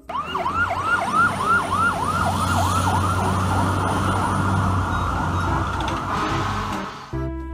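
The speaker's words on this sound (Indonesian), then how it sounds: "mobil truk pemadam kebakaran." A toy fire truck siren wails in rapid repeated up-and-down sweeps, steady and fairly loud, then cuts off near the end.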